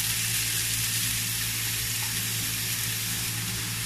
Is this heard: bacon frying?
yes